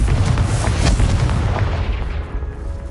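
Confringo blasting spell going off in Hogwarts Legacy, a loud booming burst that rolls into a sustained rumbling roar and slowly fades, with no talking.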